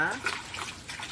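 Water is poured over a goat feed mixture being prepared for long-lasting storage, giving a brief splashing trickle while a person talks over it.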